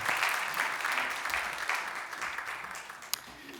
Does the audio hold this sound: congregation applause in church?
yes